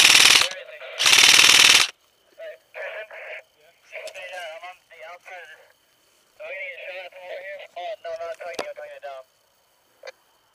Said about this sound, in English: Hold on, let me give you some cover fire.